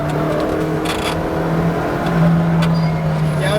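McLaren GT4 race car engine accelerating hard on a track, a loud steady close-up drone that climbs in pitch, with brief whirring and shift noises over the top.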